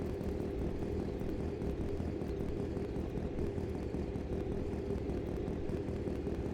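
A car engine idles with the choke pulled in the video game My Winter Car, giving a steady, rough, droning rumble that holds constant throughout with no talk over it.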